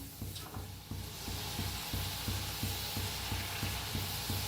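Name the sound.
turning mung dal chakli while frying in a pan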